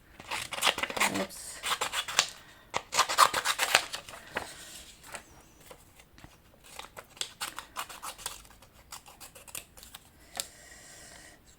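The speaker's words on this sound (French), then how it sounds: "Attendez, on va découper le tapis." Scissors snip through a craft mat in quick, close, crisp bursts of cutting, with pauses and lighter handling noises between them.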